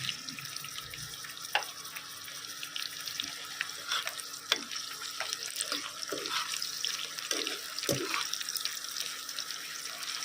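Thirty dried red chillies sizzle in oil in a pan over a very low flame for a quail fry, a soft, steady hiss with scattered small pops and crackles, close by, no talk.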